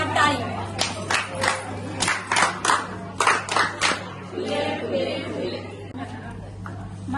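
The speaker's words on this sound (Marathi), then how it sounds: "एक आशा टाळी." A group claps in a rhythmic pattern of quick, evenly spaced bursts during a community film screening event, then the clapping fades into murmuring chatter, with a steady low hum running underneath throughout.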